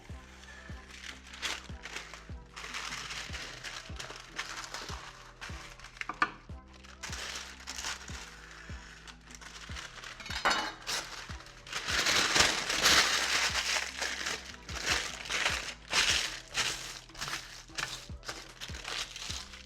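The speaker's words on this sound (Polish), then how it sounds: "potrzebujemy papier, papier do pieczenia. Kroimy dwa w miarę równe kawałki." Baking paper is cut and handled in a kitchen while preparing oven-baked kebab, giving repeated close crinkles, rustles and crackles that swell loudest in the middle of the stretch, with some faint background sound throughout.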